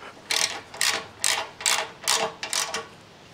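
Bolts being snugged up on the front fork of a Yamaha 100 Trailmaster motorcycle with a ratchet: about seven quick bursts of close, crisp metallic clicking in a steady rhythm, with no voices.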